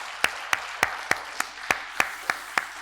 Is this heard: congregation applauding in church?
yes